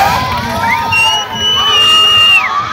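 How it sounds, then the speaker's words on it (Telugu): Children shout and scream on a fair ride at a dargah urs festival in Penukonda, with loud overlapping cries and whoops over crowd noise and music-like tones. Some voices talk among the shouting. "సో పిల్లలు అయితే అరుస్తున్నారు."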